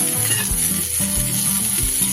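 Chopped tomato hits onions frying in a pan, giving a loud, close, continuous sizzle with faint stirring clatter beneath it.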